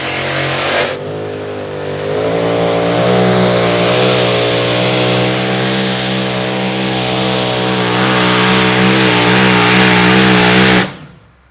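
A 2WD pulling truck in the Super Farm class at an outlaw truck pull in Texas roars at high revs, a loud, sustained engine howl with steady harmonic drone that holds for about ten seconds before cutting off abruptly.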